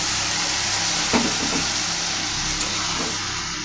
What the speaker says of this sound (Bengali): এবার আমি এর মধ্যে দিয়ে দেবো সামান্য পরিমাণে জল